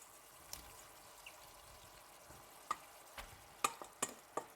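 Smoked paprika gets stirred into macaroni in a pan, a faint background sizzle broken by several sharp, brief scraping and clinking strokes of the spoon, quiet and close.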